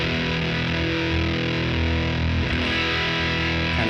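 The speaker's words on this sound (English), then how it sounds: "whenever I turn on gain 1 and stack, it's pretty much all gated fuzz here." Guitar through a JHS Kilt pedal with gain 1 stacked for gated fuzz: a thick, saturated, buzzing wall of distorted chords ringing continuously and loudly.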